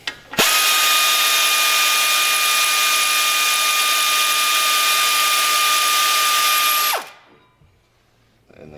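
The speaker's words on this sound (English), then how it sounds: "get our 18mm socket on our air ratchet. Loosen that up" An air ratchet fitted with an 18mm socket loosens a front brake caliper bolt on a 2003 Ford Expedition: one loud, steady high-pitched pneumatic whine running for about six and a half seconds, close up, then cutting off sharply.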